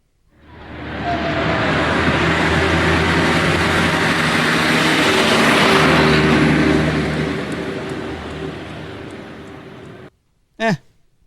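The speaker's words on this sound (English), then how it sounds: "it was not the best car passing by sound I've ever heard" A car passes by, its broadband whoosh swelling over several seconds, peaking near the middle and fading away, followed by a brief sharp chirp at the very end.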